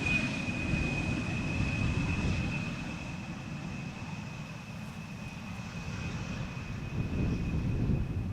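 An Embraer 175 airliner at Amsterdam Schiphol Airport gives a steady, broad jet roar heard from a moderate distance, swelling and easing slightly as it moves away, with no voices.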